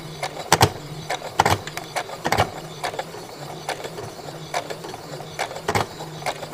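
A sewing machine stitches along the outer edges of a triangular fabric tab on a bag, close mechanical clatter in short uneven bursts with pauses between runs.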